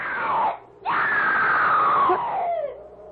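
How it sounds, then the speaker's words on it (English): A person screams twice in a radio drama, a short cry then a long, loud wailing scream that trails off, with no talking. "I heard it, too. Someone screamed."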